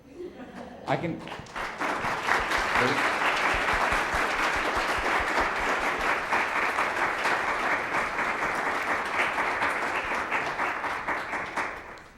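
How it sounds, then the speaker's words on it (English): A conference audience applauds with dense, sustained clapping that starts after a few scattered claps and holds steady for about ten seconds before tapering off. "let's give another round of applause"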